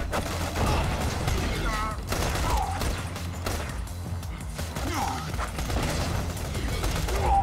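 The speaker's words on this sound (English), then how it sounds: "He took a shotgun explosion to the face and didn't die." Shotgun blasts and bursts of gunfire in the Borderlands video game, loud and dense, with booms and crashes layered over continuous talking voices throughout.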